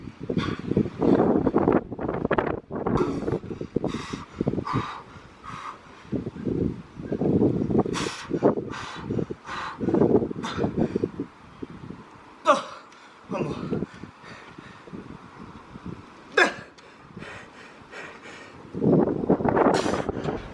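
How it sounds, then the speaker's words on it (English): Strong outdoor wind buffets the microphone in heavy rumbling gusts, with someone talking over it throughout. "It's very windy, so windy today."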